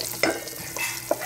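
Melted butter sizzles in a pan before popcorn is added, a soft steady frying crackle broken by a few brief stirring scrapes, close by and without speech.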